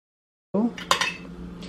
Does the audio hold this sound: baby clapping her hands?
no